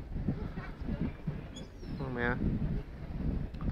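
A person mimics a motorboat with a short buzzing, rattling voice sound on a bright, breezy Boxing Day beach at Bridlington, set among nearby chatter and wind noise.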